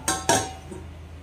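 Two quick metallic clanks close together as a lid settles onto a pot of boiling curry, followed by a faint quiet hum.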